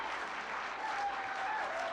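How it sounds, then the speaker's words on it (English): Applause from a gathered audience: a dense, steady patter of clapping hands that stays even and moderately close for the whole moment, with no voices heard over it. "Everyone applauded"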